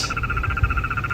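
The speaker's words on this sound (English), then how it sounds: "He's making cymatics with his little frog throat croak thing." A small frog croaks in a rapid, steady pulsing trill that carries on throughout, loud and close, with no talking over it.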